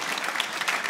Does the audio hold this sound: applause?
yes